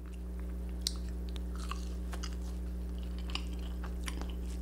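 Close-up chewing and crunching on coconut fried lobster tails, fried shrimp and fries, with soft intermittent bites over a steady low electrical hum.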